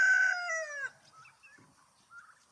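A young rooster, about three months old, gives one short, strained crow up close, followed by faint scattered clucks and soft chatter from nearby fowl.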